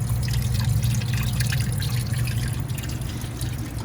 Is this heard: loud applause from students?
no